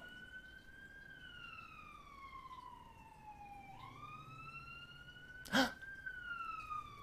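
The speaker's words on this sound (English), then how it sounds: "A siren." Distant emergency siren wailing with slow rising and falling sweeps, faint under ambient noise, with a brief sharp knock partway through.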